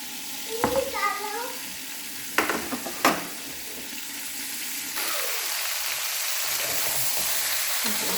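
Soft, steady sizzling of vegetables for Bengali shukto frying in a pan, with a few brief clanks and scrapes early on and a quiet voice at the start.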